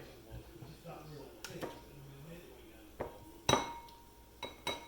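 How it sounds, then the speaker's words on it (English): Spatula scraping yogurt out of a cup in a kitchen, heard as a few sharp clinks and scrapes amid soft handling noises, with people talking quietly nearby. "I'm going to scrape it out with this, guys."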